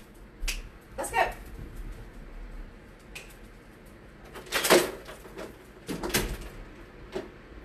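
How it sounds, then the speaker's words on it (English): A door is shut indoors in a series of sharp knocks, clicks and latch snaps spread over several seconds, with quieter room noise between them. "let me close my door"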